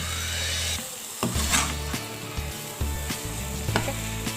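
Vegetables being sautéed with chicken and spices over a high flame for a homemade chicken burger give a close scraping, rasping stir against the pan, broken by sharp clattering strokes over a low rumble.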